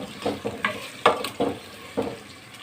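Sliced onions fry in a pan for beef qorma: a quiet sizzle punctuated by several soft stirring scrapes spread over a couple of seconds, with no talk.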